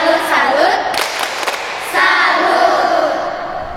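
Children at an online Sunday-school session clap along to a rhythmic clapping chant, a burst of claps and voices near and fairly loud, with chanting voices over the clapping.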